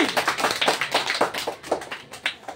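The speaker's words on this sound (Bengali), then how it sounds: "জোরদার হাততালি" Audience clapping at a school prize announcement for a class 4 girls' placing, a short burst of moderate, somewhat sparse hand claps at close range with no talking over it.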